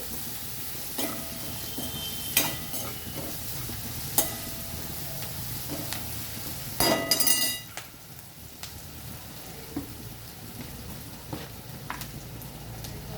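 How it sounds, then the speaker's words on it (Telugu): Onions frying in oil with salt until browned for tomato rice, a steady close sizzle broken by occasional stirring scrapes and one louder burst of crackling partway through. "ఉప్పు అయ్యాక ఉల్లిగడ్డలు చూడండి బ్రౌన్ కలర్ వచ్చేస్తాయి"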